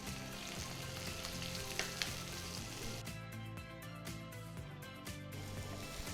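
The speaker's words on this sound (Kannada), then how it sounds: "ನಂತರ ಈರುಳ್ಳಿನ ಸಣ್ಣಗೆ ಹೆಚ್ಚಿಬಿಟ್ಟು ಹುರಿಲಿಕ್ಕೆ ಹಾಕೋಣ." One medium onion, finely chopped, fries in oil in a pan for a brinjal pachadi, making a continuous dense sizzle with occasional crackles and scraping stirs, close and steady with no speech.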